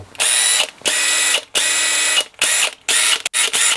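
A DeWalt 20V XR DCF845 cordless impact driver at speed 3 fires in several short, loud bursts of rapid hammering whir, separated by brief pauses, with the last bursts getting shorter.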